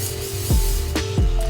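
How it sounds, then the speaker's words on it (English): Hair spray hisses in short broadband bursts over a curled closure wig with curtain bangs, close and steady, with a couple of brief pauses between sprays. "you can just spray it"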